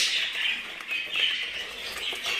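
Many birds chirp and call together in a steady, busy chorus inside a large aviary, fairly faint, with no voices.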